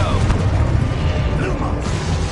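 Confringo blasting-spell explosion in Hogwarts Legacy, a muffled low boom with crackling debris lasting a couple of seconds, with faint game voices mixed in.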